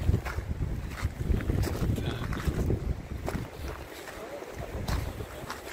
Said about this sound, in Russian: ветер, я вам скажу, такой.